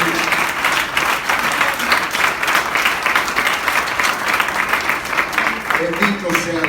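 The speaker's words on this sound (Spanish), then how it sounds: "Un aplauso fuerte para el Señor Jesús." A church congregation breaks into sustained, loud applause during a Spanish-language sermon, the dense clapping continuing steadily with a voice rising faintly near the end.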